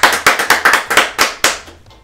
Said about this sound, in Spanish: Un aplauso para Rosa Solórzano.